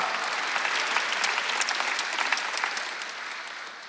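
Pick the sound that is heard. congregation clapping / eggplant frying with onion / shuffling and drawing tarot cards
congregation clapping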